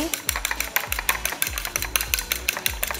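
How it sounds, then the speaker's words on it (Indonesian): One egg being lightly beaten with a utensil in a bowl: quick rhythmic tapping and clicking strokes, roughly four or five per second, close and fairly soft. "Kalau 1 butir telur cukup dikocok ringan seperti ini"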